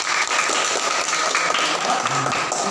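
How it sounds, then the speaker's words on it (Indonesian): Applause from a classroom of students during a school lesson, a steady dense patter of many hands clapping close by for the full stretch, with light tapping mixed in and no clear talk. "Tepuk tangan untuk mereka."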